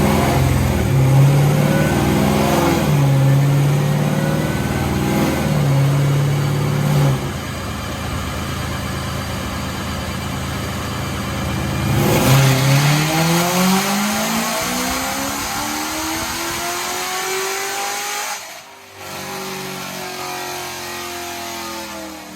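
A Corvette C7 with an LT4 conversion kit revs hard on a dyno, engine note climbing and dropping through repeated loud pulls, then sweeping up in a long rising rip before cutting off near the end.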